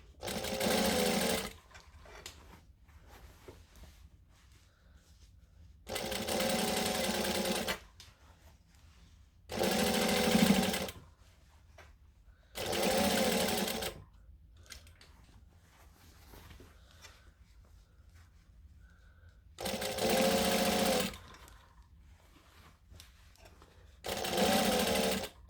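A home sewing machine stitches a McCalls M6896 sleeveless top in six short bursts of rapid whirring, each lasting a couple of seconds, separated by quiet pauses with faint handling noise.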